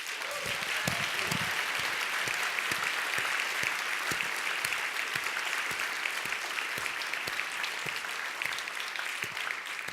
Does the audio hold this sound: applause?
yes